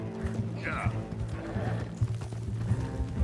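A horse in the Red Dead Redemption 2 video game gives a loud whinny while its hooves clip-clop in a steady rhythm, with someone talking over it.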